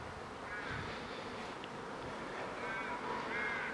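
A swarm of honey bees buzzes around a hive, a dense continuous hum close by with individual bees passing nearby, steady and fairly quiet throughout.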